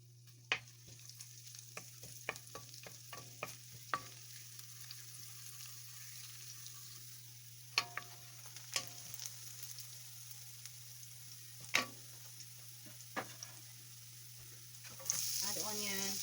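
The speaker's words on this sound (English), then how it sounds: "Add garlic." Garlic fries in a pan with a faint, steady sizzle over a low hum, punctuated by scattered sharp clicks and taps of a utensil, ending in a brief louder hiss.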